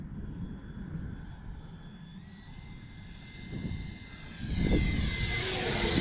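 An FMS Viper 70mm electric ducted-fan RC jet makes a slow landing pass, a steady whining whoosh that swells louder and higher as it comes closer near the end, with no voices.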